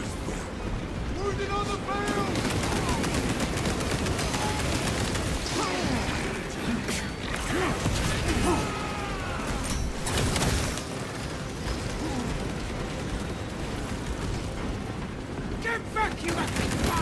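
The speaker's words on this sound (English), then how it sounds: "Standard bolt pistol back here." Bolt pistol fire in the Warhammer 40k game Space Marine 2, dense bursts of loud shots and blasts amid busy battle noise, with voices talking throughout.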